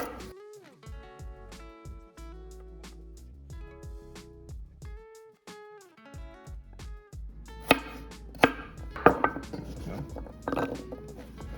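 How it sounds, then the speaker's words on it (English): A knife slices carrots on an angle on a cutting board for a Peruvian cilantro beef stew, with sparse cuts early on and a denser run of sharp, close taps toward the end, while soft tonal sounds run underneath. "what I like to do is like cut it on an angle, make a slice, then I turn it."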